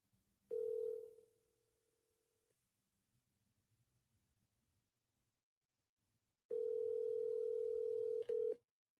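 A telephone dial tone on an outgoing call, a steady loud tone that sounds briefly, cuts out to near silence, then returns strongly for about two seconds with a short break before it stops.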